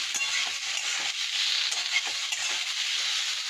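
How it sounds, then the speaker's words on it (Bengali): Potato and onion frying in a pan with spices, a steady crackling sizzle with a few scraping stirs, close and unbroken throughout. "আলু পেঁয়াজটা ভাজা ভাজা হলে মাছের তেলটা দেবো।"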